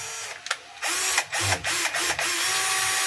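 DeWalt 10.8V cordless drill whirring in several short bursts, loud and close, as it runs to tighten its chuck; no talk.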